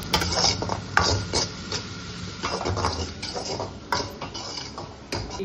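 Chopped vegetables for veg manchow soup being stir-fried in a pan, with steady stirring, scraping and clinking of a utensil against the metal over a soft sizzle, close and moderately loud, with no talk.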